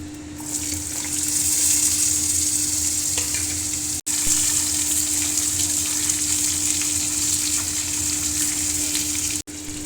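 Vegetables hit a hot pan of oil with bay leaf for a vegetarian paneer dish, setting off a loud, steady sizzle that continues evenly, broken by a couple of brief cuts, with a constant low hum underneath.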